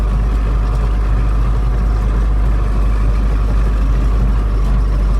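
A tractor running GPS-guided field work at night gives off a loud, constant low engine drone with a steady deep rumble and no breaks, heard alone without voices.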